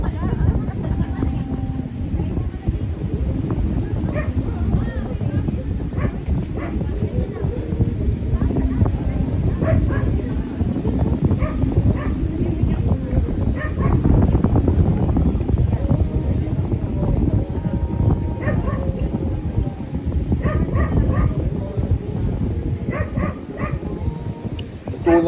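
Several dogs bark, yip and whimper intermittently near the microphone outdoors, with wind buffeting and people talking in Tagalog over and between the animal sounds.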